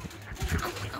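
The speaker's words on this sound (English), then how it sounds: "The dog is fine!" Dog giving soft whimpers and quick panting breaths, close but quiet, in short irregular bursts with no talking.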